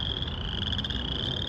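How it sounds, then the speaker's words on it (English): Chorus frogs in northern Illinois trill together in a dense, continuous pulsing chorus that stays loud and steady with no pauses. "The sound of chorus frogs"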